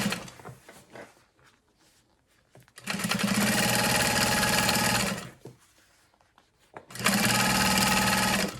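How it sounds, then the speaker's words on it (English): A sewing machine, set to a long stitch length, runs in two sustained bursts stitching along the sides of a fabric strap, with a rapid mechanical whir and quiet handling sounds between runs. "We're gonna sew along the 4 sides of this strap."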